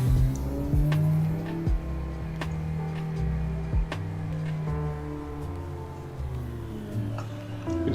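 Drift cars in the Assetto Corsa racing game, engines droning and revving with shifting pitch, occasional sharp clicks and tire noise, loud and continuous without speech.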